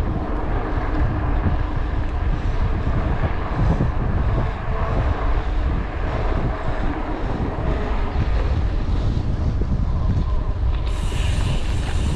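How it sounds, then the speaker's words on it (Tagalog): Strong wind roars steadily into the microphone of a cyclist on a long road ride, a loud continuous rumble with no pauses throughout. "Grabe, lakas ang hangin."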